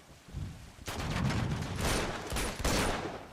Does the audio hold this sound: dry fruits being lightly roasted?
no